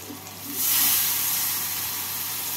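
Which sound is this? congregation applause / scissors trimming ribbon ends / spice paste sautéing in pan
spice paste sautéing in pan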